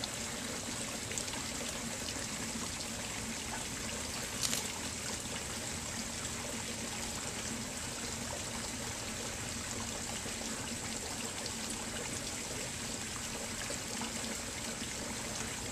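A small waterfall trickles into a backyard pond, giving a steady, even wash of splashing water that runs unbroken throughout at moderate level, with no talk.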